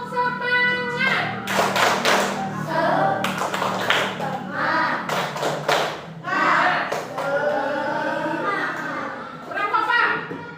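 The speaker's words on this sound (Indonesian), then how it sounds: "Tepuk semangat dulu, berdiri" Students in a classroom do a rhythmic Indonesian spirit clap, bursts of patterned hand claps and taps repeated in quick sequences, with children's voices and a teacher talking between the claps.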